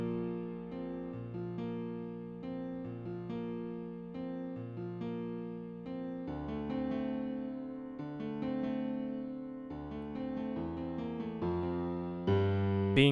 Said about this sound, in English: Then guys, we're going to add these fifth chords,